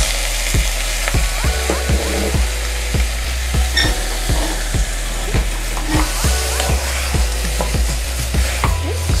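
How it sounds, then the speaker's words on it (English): Shrimp shells toast in a little hot oil, a loud steady sizzle broken by repeated sharp scrapes and taps of a utensil stirring the pan, with no voices. "We just want to toast these shells off a little bit."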